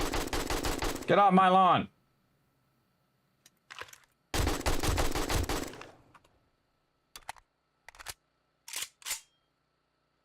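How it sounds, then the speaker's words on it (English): Gunfire in 7 Days to Die comes in two loud sustained rapid bursts, each about a second long, followed by a few faint scattered shots, with a shouted voice between the bursts. "Or shoot her with our gun."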